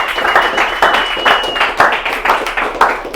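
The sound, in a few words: audience applause for speaker David Imonitie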